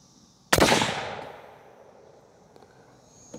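A 300 PRC rifle fires a single sharp, loud shot with a quick decaying echo, outdoors at a range on a cool barrel.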